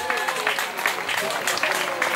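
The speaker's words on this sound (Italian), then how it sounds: "accogliamolo con un applauso" An audience applauds to welcome a senior-category singer onto the stage at a singing competition, the clapping dense and steady, with a crowd murmur and some voices mixed in throughout.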